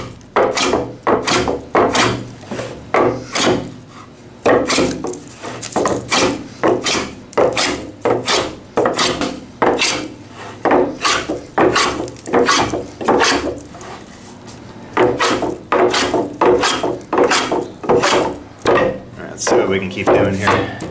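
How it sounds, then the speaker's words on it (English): A Japanese scrub plane takes thick shavings off an ordinary 2x6 board, each stroke a rough, rasping swipe repeated in a quick steady rhythm, close and loud with short pauses between passes. "Let's see what kind of wood we can mulch here."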